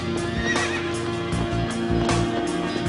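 Wild horses on a shoreline whinny and neigh loudly and close, with steady clip-clop of hooves throughout and several repeated calls.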